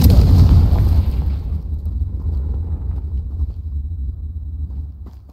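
A Confringo spell explosion in the Hogwarts Legacy video game, a loud deep blast at the start that decays into a long low rumble over several seconds.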